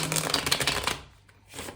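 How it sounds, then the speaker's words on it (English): A tarot deck being shuffled up close: quick, papery riffling bursts for about a second, a brief near-silent gap, then a softer rustle of cards. "I will give the deck a few more shuffles"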